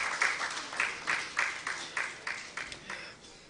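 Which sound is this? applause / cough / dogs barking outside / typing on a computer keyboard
applause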